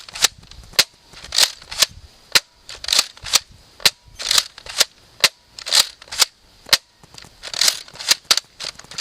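A Nerf Zombie Strike Doominator blaster fires foam darts in a rapid string of about twenty sharp, loud, close pops, each with a brief mechanical clack, at a fairly even rhythm.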